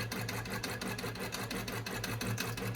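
Longarm quilting machine running a basting stitch across a jelly roll quilt, a steady fast mechanical chatter with a continuous motor hum, close and even throughout.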